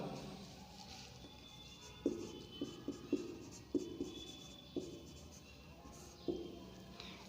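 Answers are written on a board during a Sanskrit lesson, heard as a faint series of short, sharp taps and scratches in a quiet room, about eight strokes at uneven intervals.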